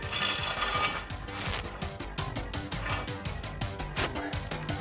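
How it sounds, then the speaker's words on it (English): Metal axle stands set under a raised car, with a run of quick, clattering ratchet clicks and knocks from the adjusting mechanism, close and fairly loud. "we'll just put some axle stands in"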